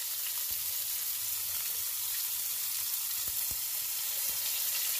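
Hamburger patty frying in a pan, a steady close sizzle with a few faint taps, no talking.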